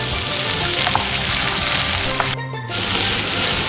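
Chopped onions sizzle steadily in a hot pan for a prawn drumstick butter masala, with faint scrapes from stirring and a brief dip in the frying sound partway through.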